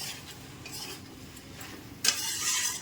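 Mixed vegetables with drumsticks being stirred and sautéed in a pan, a steady soft scrape and sizzle joined by a louder, brighter burst of frying partway through, with no talking.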